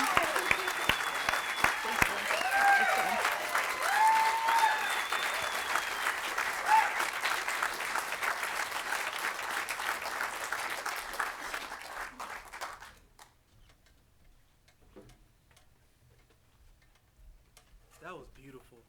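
Sustained audience applause at a public impact day event fills the first two-thirds, dense clapping with a few whoops, then fades out into near silence with faint sounds at the end.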